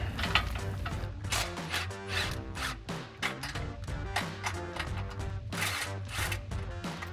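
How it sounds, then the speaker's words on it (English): Rapid ratcheting of a socket wrench loosening nuts on a Jeep Gladiator JT front bumper during a RedRock Trekker bumper install, a busy clicking texture running continuously over a low background drone. "then we'll grab our 18mm socket to remove our 2 nuts"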